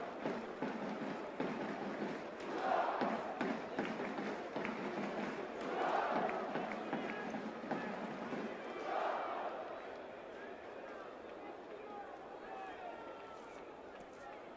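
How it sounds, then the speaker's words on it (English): A rugby stadium crowd at a Top 14 match between Toulon and Pau roars and cheers after a Toulon penalty, with swells of noise rising and falling under a commentator's voice, then easing to a quieter murmur. "The crowd enjoying that one."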